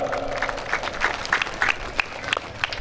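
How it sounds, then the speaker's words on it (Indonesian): Crowd claps at the opening of a district MTQ Quran recitation event in Meral, Karimun, with scattered, moderately distant hand claps and a brief voice at the start. "Tepuk tangan dulu untuk Kecamatan Meral."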